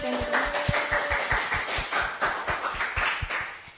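A small crowd claps in a loose, fairly regular rhythm at a product presentation, individual hand claps standing out as distinct sharp beats across the whole stretch, with no speech over them.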